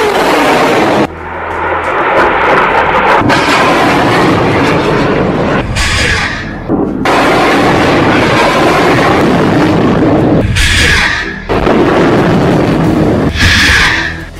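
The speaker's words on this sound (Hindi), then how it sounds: "एक के बाद एक हमास 10 रॉकेट फायर करता है।" Hamas rockets firing one after another, a loud sustained roaring whoosh broken by brief gaps as each launch follows the last, with no voices.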